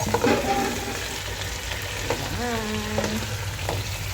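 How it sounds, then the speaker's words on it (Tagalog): Chicken necks and wings fry in a hot pan with aromatics and are stirred, giving a steady close sizzle with scraping and clatter while a voice speaks briefly over it. "ilagay na natin ang ating chicken neck at chicken wings"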